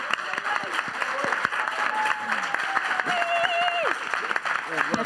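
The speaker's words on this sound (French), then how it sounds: "Vous applaudissez." Audience applause fills a Cannes press conference room for the film's producers, steady dense clapping throughout with a voice speaking over it and a brief whistle-like tone in the middle.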